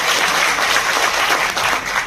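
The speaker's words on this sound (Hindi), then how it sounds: "जोरदार ताली बजा करके इनका स्वागत करिए" Sustained audience applause welcoming a speaker at a national convention in Mumbai, a dense, steady wash of many hands clapping at constant loudness throughout, with no voices.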